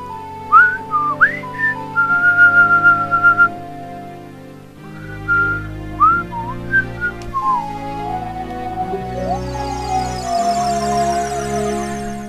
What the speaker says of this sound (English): Sorry if I pierced your ears with that whistle.